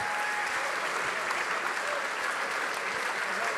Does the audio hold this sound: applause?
yes